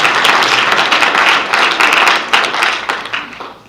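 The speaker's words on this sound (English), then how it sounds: "If you could give her a round of applause." An audience at an awards event claps, a dense, loud round of applause that holds steady for several seconds before starting to fade.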